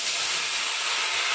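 Spices and taro sizzling in hot oil in a pan, with cumin, radhuni, dried and green chillies among them; a loud, dense, steady hiss of frying throughout with no talk.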